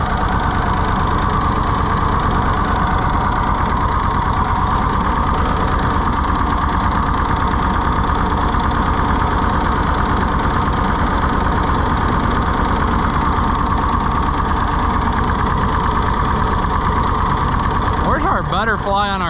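Idling engine of a rusty, neglected Ford 4000 tractor, a loud steady low chugging drone running throughout, close by, with a voice speaking over it.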